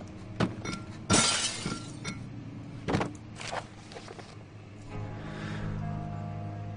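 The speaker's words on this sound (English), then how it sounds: "I'm gonna use a book to break this glass." A glass window smashed with a book in the Amnesia horror game: several sharp, loud cracks and shattering bursts, each trailing falling shards, then a lingering low tone.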